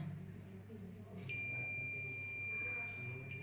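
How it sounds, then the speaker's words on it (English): A PIR motion sensor alarm's buzzer sounds a steady high electronic tone that starts abruptly and holds for a couple of seconds, with a faint hum underneath. "So you can see here LED is glowing and buzzer is sounding"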